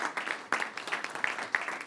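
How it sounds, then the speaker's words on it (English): An audience at a panel discussion on the U.S. Export-Import Bank claps to welcome a speaker, a soft, moderately distant patter of hands. "Would you give a big round of applause and a welcome to Mr."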